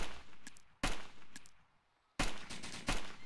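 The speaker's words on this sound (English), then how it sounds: "I think he's shooting at me and killed the zombie" Gunshots from an enemy player in DayZ, loud sharp cracks in two short bursts separated by quiet, each shot fading quickly.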